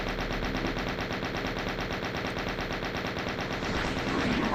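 Rapid, continuous chaingun fire from Doom aimed at Mancubus demons, a dense loud stream of shots lasting throughout with game effects layered underneath.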